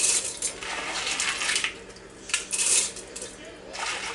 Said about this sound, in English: after we wash them, we're just going to put them in the crock pot